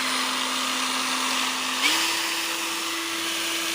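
A Nagawa NCG45U cordless brushless angle grinder runs at its lowest speed setting, M, around 4700 RPM, giving a steady whine that holds one pitch, steps up slightly partway through, then stays level and loud with no talk.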